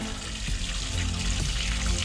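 Water dumped out of a bait container holding tadpole madtoms by the Mississippi River, a steady close splashing pour that runs the whole two seconds with no voices.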